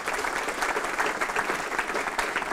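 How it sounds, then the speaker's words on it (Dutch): Dense, steady applause from an audience at a talk on nitrogen, many hands clapping continuously, moderately close and filling the whole moment without any voice on top. "Geef ze even een groot applaus voor nu."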